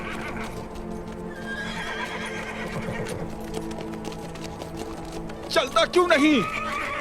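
A horse neighs in a loud, wavering whinny near the end, with hooves clip-clopping throughout, while someone speaks over it.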